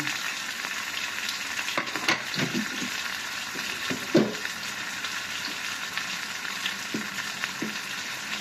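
Chicken nuggets sizzling in hot oil in a pan, a steady bright frying hiss with occasional stirring clatter, close and without speech.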